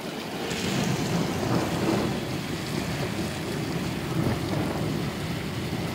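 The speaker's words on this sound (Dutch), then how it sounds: "We zeggen dat onweerkern waarschijnlijk ons nu net heeft genaderd." Rain falls steadily during a thunderstorm in Zuidwolde, a dense, constant wash of drops with a low rumbling undertone throughout, fairly loud and without speech.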